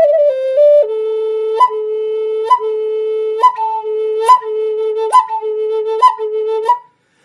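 A breathy wooden Native American flute holds a low note, broken regularly by short upward barks that flip briefly higher and drop back, about once a second.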